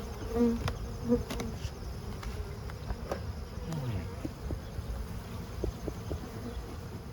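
Honey bees in an open hive, heard as a soft continuous buzz with a few louder passes close by, alongside faint handling noises and no talk.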